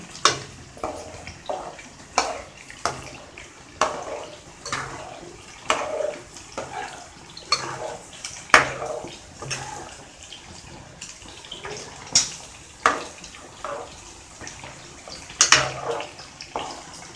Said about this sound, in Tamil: இப்போ இதில் தேங்காய் ஊற்றுறேன்